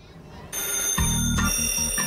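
A vintage telephone's bell rings in a small telephone museum in Seattle, a short, bright metallic ring that starts abruptly, loud and close, over a low hum.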